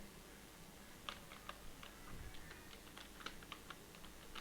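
Computer keyboard typing: a quiet, irregular run of crisp key clicks, some in quick bursts and others spaced apart, close up and alone against a faint room hiss.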